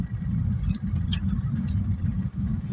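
Cars idle in a traffic jam on EDSA, the buildup caused by nearby construction. The engines make a steady, dense low rumble close by, with faint ticking and clicks above it and no talk.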